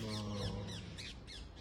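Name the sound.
birds squawking in a small garden near Paris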